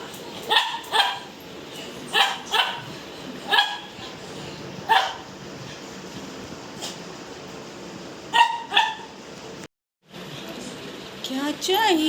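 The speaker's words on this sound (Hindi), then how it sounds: "अब उसका भौंकना शुरू।" A pet dog barks in a home in short, sharp bursts, mostly singles and doubles spread across the stretch, fairly close, with a voice faintly heard between them.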